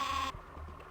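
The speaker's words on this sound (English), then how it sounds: "Stereo sheep." A sheep gives a short, buzzy bleat in the Spy Fox 2 game, followed by faint low thumps. It is close and brief, with no talking.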